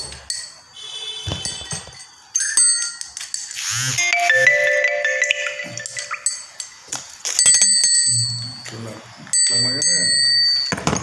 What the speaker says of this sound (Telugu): గంట కొట్టండి గంట కొట్టడం మర్చిపోకురి గంట కొట్టుకురి